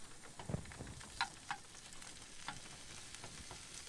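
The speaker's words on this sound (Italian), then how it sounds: "Bene, intanto mettiamo a cuocere il tonno." Diced tuna cooks in hot oil in a pan aboard a boat, giving a soft, quiet crackle with a few sharp clicks and taps scattered through it.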